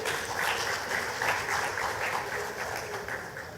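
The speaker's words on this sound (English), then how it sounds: "I want to invite you to give yourselves a round of applause for making it to day" Audience at the final morning session of a cultural and creative industries event in Grenada applauding, a steady, full roll of many clapping hands, moderately loud and sustained, slowly easing toward the end.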